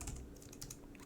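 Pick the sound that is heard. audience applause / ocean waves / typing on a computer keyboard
typing on a computer keyboard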